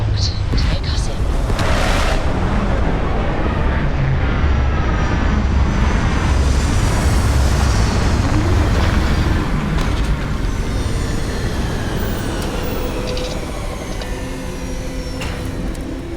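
A spaceship touches down in Starfield, a heavy rumbling engine roar with deep booming low end that swells and then eases, loud and continuous throughout.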